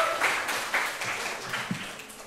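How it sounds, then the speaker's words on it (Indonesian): Audience applause at a school talk on stories and identity: a short burst of scattered hand clapping, moderately loud and fairly close, with no one talking over it. "beri tepuk tangan untuk rekan kalian."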